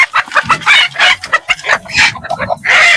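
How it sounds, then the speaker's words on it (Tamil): Native country chickens cluck loudly and close by in rapid, uneven bursts, with a short squawk now and then and no talk over them. "பாத்தீங்கன்னா நாட்டுக்கோழி வாங்கிட்டு வந்தாச்சு"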